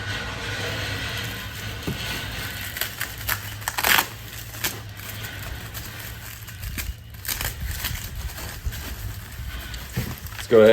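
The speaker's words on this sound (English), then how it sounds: "So we'll carefully cut these out of here." Scissors or a blade cuts Volkswagen Beetle roof rack parts free from taped packaging, giving a run of crisp snips and crinkling tape or cardboard, with a few louder scrapes and handling knocks and no talking.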